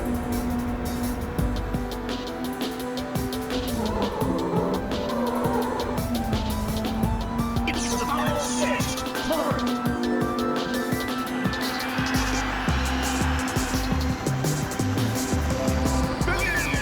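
Race car engine and tyres in the video game Ridge Racer Type 4: a continuous, loud engine whine that rises and falls in pitch through gear changes and cornering, with some tyre noise mixed in.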